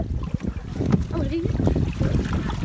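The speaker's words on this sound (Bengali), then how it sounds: "এখানে সুজন মাঝি গাঙ্গে নৌকা বাইছে।" Water splashes and gurgles around a small rowboat being rowed on a river, with wind rumble and a voice talking faintly in the background.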